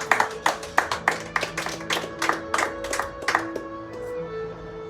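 A church congregation claps together for the Lord during a sermon, about a dozen rhythmic, evenly spaced claps that fade out, with sustained musical tones from an instrument beneath.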